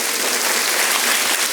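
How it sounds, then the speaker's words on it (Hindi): Audience applause at a large youth devotional gathering, dense steady clapping from many hands filling the whole stretch at a loud, even level with no talking over it. "ताली बजाइए"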